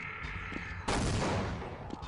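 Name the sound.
grenade explosions in video game Half-Life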